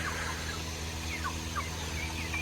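A pure white turkey gobbling, with a few short warbling calls close by over a constant low hum and background noise.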